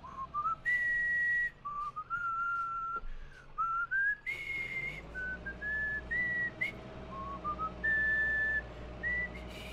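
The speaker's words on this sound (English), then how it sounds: "Can't whistle that high note." A person whistles a wandering melody of sustained high notes that glide between pitches, close and clear over a low engine-like hum from a driving game.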